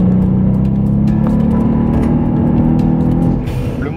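A Volkswagen Up! GTI with a three-cylinder 1.0 TSI engine accelerates, giving a loud, continuous engine drone with a rising tone that eases off near the end of the short stretch.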